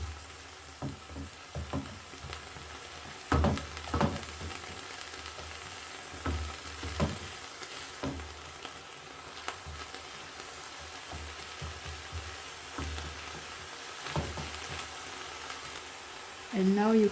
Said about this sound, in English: we go in with our leeks. We mix everything together.